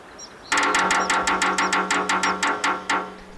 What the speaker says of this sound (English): A crazy sapsucker.